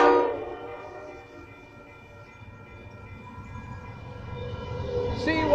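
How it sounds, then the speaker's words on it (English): A freight train rumbles steadily past at Wondabyne station, Sydney, with a horn blaring at the start and again near the end. "Freight train, CUI classes."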